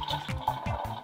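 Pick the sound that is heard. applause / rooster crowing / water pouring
water pouring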